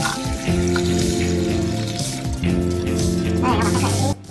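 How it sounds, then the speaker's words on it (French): Water from an aquarium pump, an EHEIM Classic 250, is poured onto a potted pothos plant, a steady splashing pour lasting several seconds with brief gurgles, close by and loud. "puis on verse la flotte dessus."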